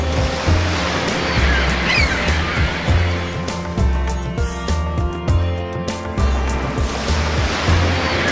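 Ocean waves at the Dhanushkodi viewpoint in southern India, loud close surf washing in with repeated rumbling surges and a steady hiss of breaking water.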